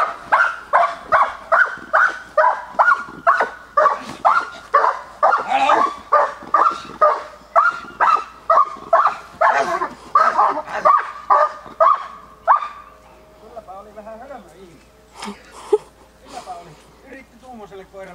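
A dog being approached during a temperament test, barking in rapid, loud, regular bursts for most of the stretch, then easing into whines and yips as people talk nearby.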